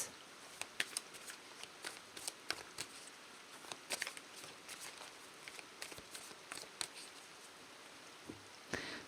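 Tarot cards shuffled and drawn in a quiet room, a run of soft papery riffles, slaps and flicks with brief pauses between bursts, close and fairly faint, with no talking.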